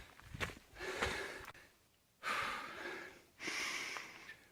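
Heavy breathing from someone walking the shores of Lake Matheson, with three or four long, rough breaths in slow rhythm, close and fairly quiet.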